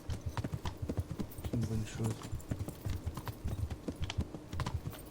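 Horse hooves clip-clopping in Kingdom Come: Deliverance, a rapid irregular patter of hoofbeats close by, under someone talking in French.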